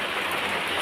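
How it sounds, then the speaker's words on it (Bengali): Rain falls outside a house after a spell of hot weather, making a steady, even hiss throughout the short moment. "এই দেখো বৃষ্টি হচ্ছে, বুঝেছো? বৃষ্টি হচ্ছে, বৃষ্টি।"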